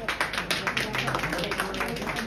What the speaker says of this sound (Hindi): सुमन जी को जोरदार तालियों से उनका स्वागत कीजिए